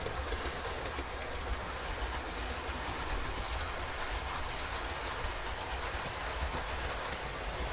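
Trains running, giving a continuous, even rumble and clatter that holds steady from start to finish with no voices.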